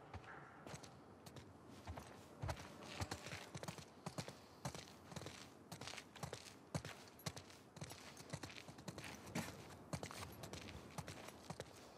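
Hooves clip-clop steadily at a walking pace in the video game The Last of Us Part II, several horses close by, with faint rustling and no voices.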